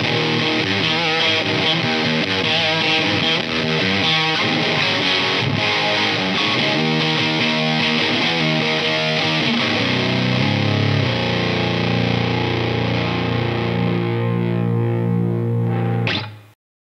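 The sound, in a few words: electric guitar through Pro Co Lil' Rat mini distortion pedal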